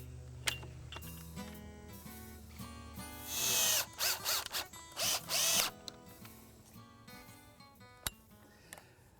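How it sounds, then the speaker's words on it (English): A screw being driven with a power driver to fasten a magnetic self-latching pool gate latch: a few short whirring bursts in quick succession midway, over quiet background music with a few clicks. "slip the latch mechanism into place and secure it with a screw"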